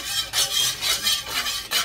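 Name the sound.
stirring food in a hot wok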